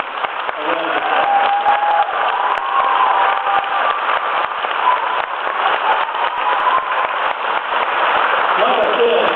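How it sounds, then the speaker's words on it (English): An audience at a junior high school band concert gives a sustained round of applause, with dense clapping and some cheering mixed in. The recording is thin and slightly muffled. "let's give these kids on the stage that made this a round of applause"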